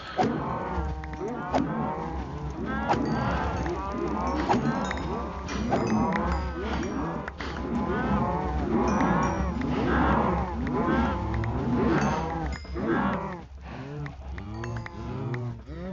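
Minecraft cows mooing again and again, a crowded herd of overlapping low bovine calls close by and loud, with a steady game background hum underneath.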